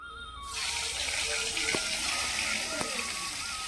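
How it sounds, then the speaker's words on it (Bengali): Eggplant slices drop into hot oil and burst into a loud, dense, steady sizzle close by, with a couple of faint utensil clicks and no talking. "এই তেলের মধ্যে বেগুনগুলো ভেজে নেব"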